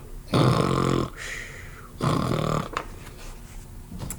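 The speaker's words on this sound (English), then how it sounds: "And soon the giant began to snore." Two long, deep rumbling snores from a cartoon giant, each about a second, loud and close, separated by quiet breathing gaps.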